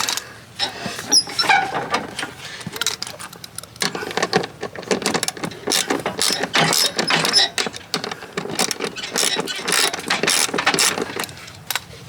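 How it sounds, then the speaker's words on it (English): A hand ratchet loosens 10mm bolts on a bracket of a John Deere X110 automatic ride-on mower during a deck belt replacement, giving loud, close, rapid clicking that runs almost without a break. "now just need to undo these two 10mm bolts. Just need to loosen them up on the bracket."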